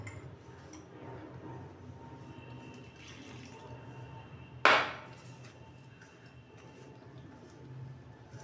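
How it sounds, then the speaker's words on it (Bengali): Warm water poured into flour dough before kneading: a soft, continuous watery trickle close by, broken once by a single sharp knock or clatter midway. "এখন আমি একটু উষ্ণ গরম জল দিয়ে"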